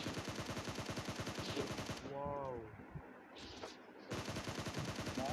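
Rapid automatic fire from a SCAR assault rifle in a battle royale shooter, loud bursts of close gunshots with a short lull in the middle where the firing pauses before resuming.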